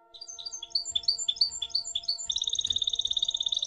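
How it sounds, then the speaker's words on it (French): Several beautiful birds sing together on a hillside at sunrise, a lively mix of chirps and trills, with one rapid repeated trill taking over near the end, all set over a low steady background hum. "il entendit chanter sur la colline comme un chant de différents beaux oiseaux"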